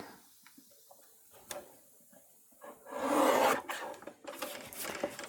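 Scissors trimming black cardstock along a stitched line while making a paper card, heard as close, soft rasping snips and rubbing, with a louder dense stretch of cutting in the middle and scattered light ticks around it.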